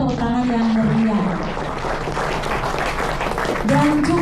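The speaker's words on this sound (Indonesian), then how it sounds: "Kita berikan tepuk tangan yang meriah" Community gathering audience gives a lively round of applause, dense and sustained, while a voice talks and music or singing carries underneath throughout.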